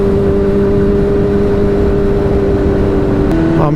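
A Kawasaki ZX10R motorcycle on fresh tires, riding at speed: a loud, steady engine drone with wind rush that holds level before shifting pitch near the end.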